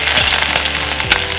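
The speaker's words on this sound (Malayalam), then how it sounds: "കടുക് പൊട്ടി കഴിയുമ്പോൾ ഇഞ്ചി ഇടാം." Mustard seeds and ginger fry in hot oil for a soya chunk roast, giving a steady close sizzle dotted with sharp crackling pops and a few soft thuds, with no talking.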